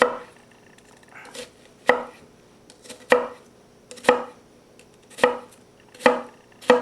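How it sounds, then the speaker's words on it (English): A knife cutting through an onion on a board, about eight sharp chopping thuds spaced roughly a second apart, close and clear with no talk. "take your knife and slice vertically, but don't cut all the way through, otherwise the onion will fall apart"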